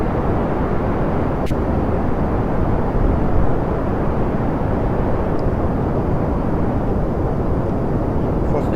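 Rocket engine in Kerbal Space Program, a loud, steady broadband roar that continues without a clear drop in intensity.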